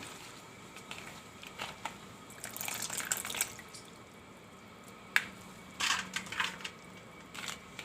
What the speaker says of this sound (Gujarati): આમાં આપણે થોડુંક પાણી નાખ્યું છે એકદમ સરસ ધોવાઈ જાય એ રીતે